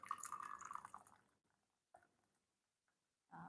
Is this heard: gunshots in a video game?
no